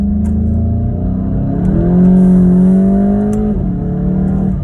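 A Volkswagen MK7 GTI engine revs hard close by in second gear, its pitch climbing, easing briefly, then rising again under heavy acceleration.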